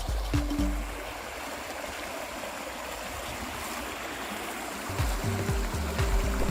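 A high-running summer stream in the Çakallık creeks, rushing steadily and loudly close by, with occasional deep knocks and rumbles underneath.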